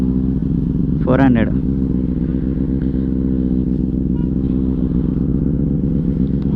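A rare parallel-twin 500cc motorcycle fitted with an aftermarket exhaust idles nearby with a steady low, throbbing rumble throughout, briefly blipped once early on, while someone talks over it.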